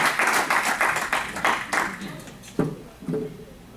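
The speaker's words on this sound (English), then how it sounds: "I'd like for everyone to give John a thank you round of applause for all the wonderful things he has made for" A small group at a village board of directors meeting gives a short round of applause. The clapping is moderately loud and tapers off into a couple of isolated final claps.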